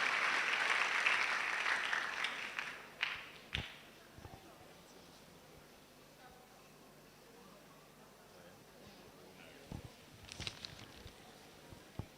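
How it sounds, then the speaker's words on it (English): Audience applause at a quiz competition finale, a burst of clapping that swells at the start, then fades into scattered claps and a quiet room with faint sounds. "A round of applause for her."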